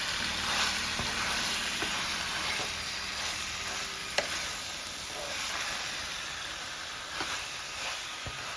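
Red sauce vegetarian pasta sizzles in a pan while being stirred, a steady close hiss of frying with faint scraping and a few light clicks of the utensil, no voices.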